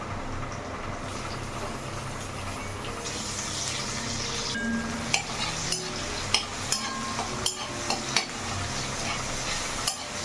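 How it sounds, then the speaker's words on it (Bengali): Chopped tomato going into lightly fried spices in a pan, a continuous close sizzle that turns into a run of sharp clattering spoon and pan knocks as the mixture is stirred, with no voices. "হালকা হালকা ভাজা হয়েছে, দিয়ে দিচ্ছি কুচনো টমেটোটা।"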